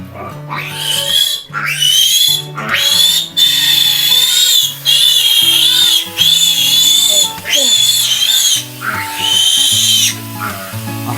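Baby pigs squeal loudly and continuously during iron supplement injections, shrill overlapping cries rising and falling in long bursts with short breaks, close up and alone.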